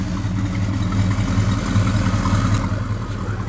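A 1971 Chevelle SS 454 big-block with a four-speed and OEM exhaust idles steadily, a low, even rumble with a faint lifter clatter, close and alone.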